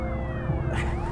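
An ambulance siren wails loudly and steadily throughout, its rising and falling tones sweeping over rumbling traffic noise, with no talking.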